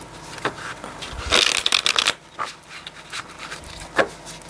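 Tarot cards shuffled by hand in a series of quick, close riffling and sliding bursts with short pauses between them, the loudest flurry in the middle, with no talking.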